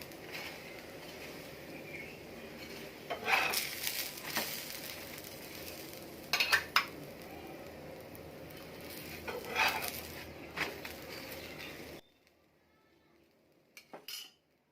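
A potato-stuffed paratha roasting in butter on a flat pan, with steady sizzling and several sharp scrapes and clinks of a metal spatula before the sound cuts to near silence.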